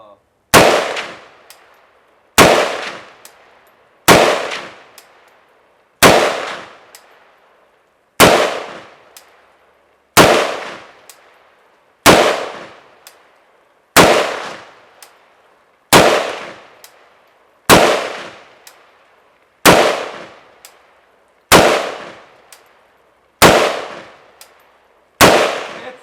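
A Century Arms WASR-10 rifle fires single rounds, each a sharp loud crack with a short decaying echo, spaced evenly about two seconds apart, around a dozen shots outdoors.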